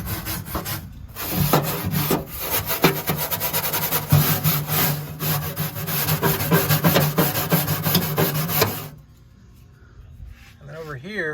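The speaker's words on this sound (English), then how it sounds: "For these rust spots, I'm going ahead and taking a wire brush," A wire brush scrubs rust spots on the floorboards of a Jeep Wrangler TJ, making loud, rapid rasping strokes close up for several seconds before stopping, with a voice speaking afterward.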